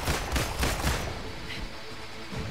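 Gunfire from the video game Marvel's Avengers, a burst of several loud shots in the first second followed by a lingering rumble and faint scattered noise.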